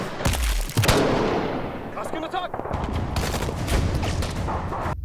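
Dense gunfire fills a war film battle scene as special forces clash with militants, with rapid automatic bursts and overlapping shots, loud and continuous, mixed with shouting and clatter.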